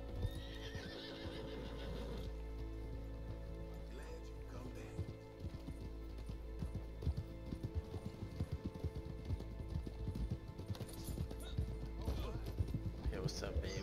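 Horse hooves clip-clop in Red Dead Redemption 2, a rapid, uneven patter of soft thuds with an occasional whinny, sitting low in the mix under a steady background tone while people talk over it.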